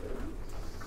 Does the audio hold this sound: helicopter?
no